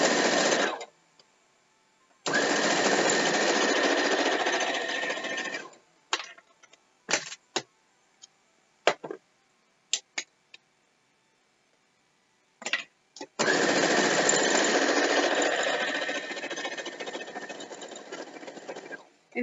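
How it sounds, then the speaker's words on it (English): A sewing machine stitching double-size quilt fabric runs in long, steady bursts of motor whir, separated by quiet pauses filled with short clicks and handling noises; close and clear. "let's sew my ends"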